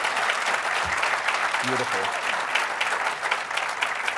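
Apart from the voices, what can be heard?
audience applause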